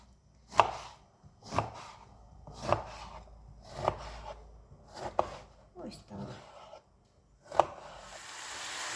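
Knife chopping vegetables for eggplant caviar on a cutting board in steady, spaced strokes, about seven sharp thuds, with a brief spoken remark between them.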